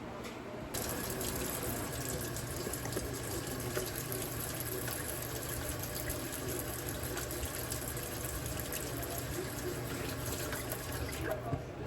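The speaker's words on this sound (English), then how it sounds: "I'm about to wash my hands" Tap water runs steadily from a faucet into a kitchen sink while hands are washed, a continuous broadband rush that starts abruptly and stops near the end, fairly loud and close.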